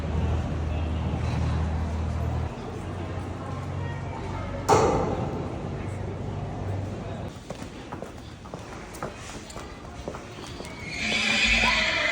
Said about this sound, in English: About to saddle up some horses